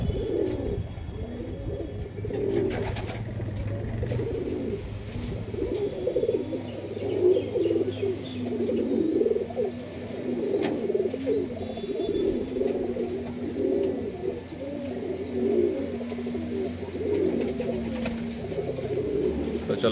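Pigeons in a pigeon house coo softly and repeatedly, several birds overlapping in low, burbling calls against a quiet background with occasional faint chirps.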